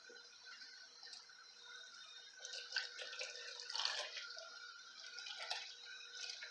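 Apple cider vinegar is poured into a plastic bottle for a rosemary herbal hair rinse, a faint, steady trickle of liquid with slight gurgling swells, close and alone.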